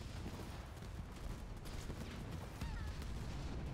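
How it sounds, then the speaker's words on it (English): Gunfire from enemy ground troops in the real-time strategy game Halo Wars 2: a continuous low, faint crackle of distant battle shots that runs steadily throughout. "I'm receiving fire from enemy ground troops."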